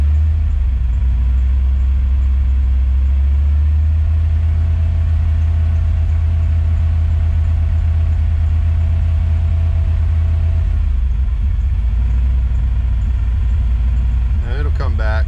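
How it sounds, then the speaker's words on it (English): An EFI engine idles steadily, then answers a couple of small throttle blips before settling back, a low continuous mid-pitched hum heard close up. "I'm just going to give it a couple little throttle blips and kind of show you what I mean."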